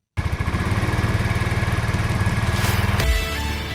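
A motorcycle engine runs close by with a steady, rapid putter, then revs briefly near the end.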